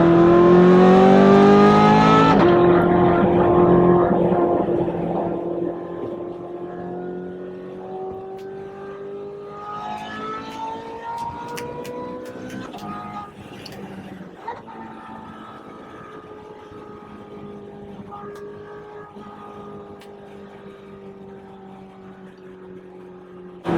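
A Ferrari F430 Scuderia with a P0024 camshaft timing fault runs loud and close, its engine and exhaust revving high at the start, then falling to a steady, throaty drone as the car drives on.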